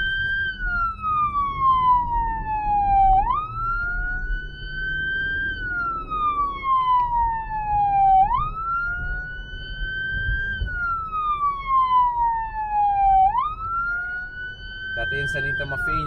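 Police-style light bar siren fitted to a Kia Sportage wails in three long rising-and-falling sweeps, loud and close, with faint background noise and a brief burst of clicking near the end.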